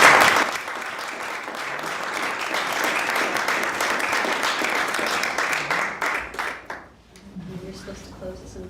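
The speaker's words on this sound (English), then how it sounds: "if we can now give a big round of applause" A big round of applause from a church audience at a faith and culture event on gun violence, dense clapping filling the room for several seconds before thinning and fading out near the end.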